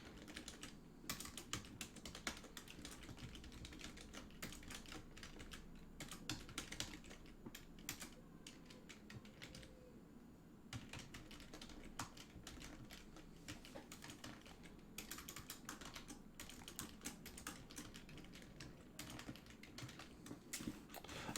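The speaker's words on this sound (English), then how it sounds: "I'm just typing this as a text response so you can see it as well." Fast, continuous clatter of typing on a computer keyboard, close and fairly quiet, with irregular bursts of keystrokes and a few short pauses.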